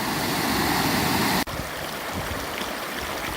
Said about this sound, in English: this is about as close as I'm going to get to the top of the waterfall